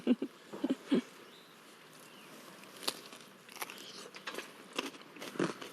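A crunchy, fresh lemony dish being bitten and chewed, with a few sharp crunchy bites near the start and softer chewing clicks scattered through a quiet room.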